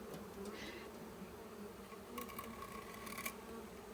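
Bees buzz close around the head of a beekeeper working a hive, a dense, steady hum with individual insects whining nearer and zipping past in quick, sharp passes.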